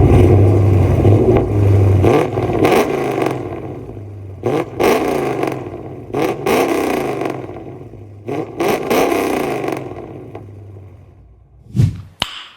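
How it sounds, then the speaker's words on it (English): A modified Dodge Charger R/T engine revving up close, several sharp throttle blips rising and falling over a rumbling idle, with a final loud burst near the end. "I'm about to rev the car real quick"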